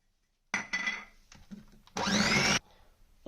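Electric hand beater whirring through chocolate marble cake batter in a bowl, a steady motor buzz with a louder, higher-pitched burst near the end, alone without talk.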